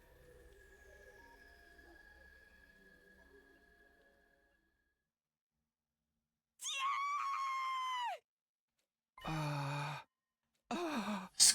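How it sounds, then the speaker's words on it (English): A long, rising scream followed by two more anguished cries rings out at night in the video game The Hundred Line Last Defense Academy, after a fading rainy ambience and a stretch of silence. "The sudden cry rang through the night."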